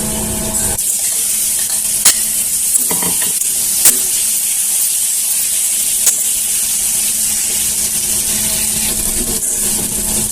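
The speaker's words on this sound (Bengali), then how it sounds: "তো আবার আমি ভাজা কেরালাগুলো দিয়ে দিচ্ছি।" Fried bitter gourd pieces dropped into a pan with a little ghee sizzle loudly and steadily, with a few sharp clinks and stirring scrapes over a continuous close frying hiss.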